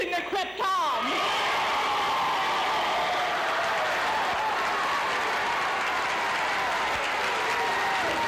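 At a public meeting about releasing krypton from Three Mile Island, an audience applauds against the release, dense sustained clapping from a large crowd with scattered whoops and shouts, steady and loud throughout.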